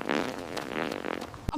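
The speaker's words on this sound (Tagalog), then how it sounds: "Ang baho ng utot mo" A grandmother lets out a fart while walking home, a short low sputtering burst lasting over a second, fairly close and quiet.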